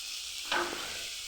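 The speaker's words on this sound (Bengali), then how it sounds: "মনে হলো তেলটা একটু কম হয়েছে, তাই আমি সামান্য তেল দিয়ে দিচ্ছি" Oil poured into a hot pan for frying dried fish, a short sudden sizzle flaring up over a faint background hiss, close and alone.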